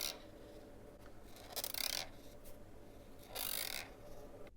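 A Crayola brush pen drags across paper during hand lettering, producing two distinct squeaky, scratchy strokes over a quiet background.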